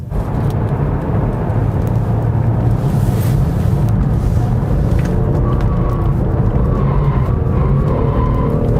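A 2022 Genesis G70 3.3T Sport AWD sedan corners at speed, a steady loud roar of engine and road noise with wind buffeting the microphone throughout, no talk.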